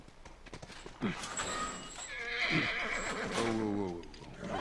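Horse in the video game The Last of Us whinnying loudly and close, with hooves clip-clopping alongside; the neighs rise and fall over a few seconds against game ambience.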